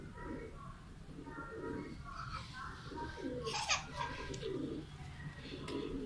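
A pet pigeon in Pakistan coos softly in low, rolling murmurs, close by but fairly faint, with a rise in the middle of the clip.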